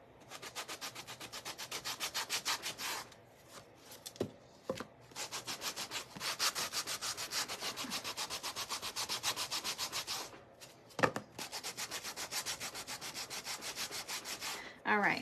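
Sanding block rubbing repeatedly over a painted wooden Dollar Tree birdhouse cutout, a steady rhythmic scrubbing with quick back-and-forth strokes and a couple of short pauses, close and fairly loud.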